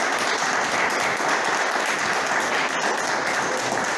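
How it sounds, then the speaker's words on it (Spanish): A loud, sustained round of applause from a crowd at a municipal event in Chalco, honoring the municipal president, with continuous dense clapping throughout and no talking. "Para quien pido un fuerte aplauso,"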